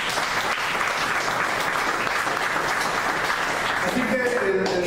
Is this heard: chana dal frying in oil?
no